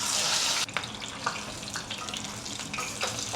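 A piece of fish frying in a pan at home, a steady broadband sizzle that drops after a moment into quieter crackling with scattered pops, close and alone.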